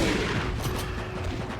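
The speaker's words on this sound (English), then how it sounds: "Shotgun time!" Shotgun blasts in Resident Evil 4 gameplay, a couple of booming reports with rumbling tails over dense background noise, loud and close with no one speaking.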